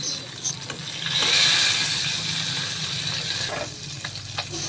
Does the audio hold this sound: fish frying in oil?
yes